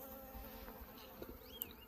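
Honey bees buzzing around an opened wooden hive being cleaned out after a bad winter, faint scattered buzzing as individual bees fly past close by over a quiet outdoor background, with no talking.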